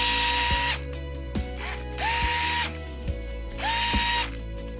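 An NEX L1 Pro electric precision screwdriver whirs in three short bursts separated by pauses, each run starting and stopping abruptly, close to the recorder and with nobody talking.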